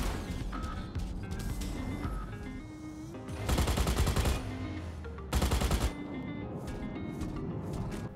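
Rapid automatic gunfire from mechs battling in Mech Arena, a 5v5 PvP mech combat mobile game, with two loud bursts standing out over steady game sound effects and mechanical clatter, no talking.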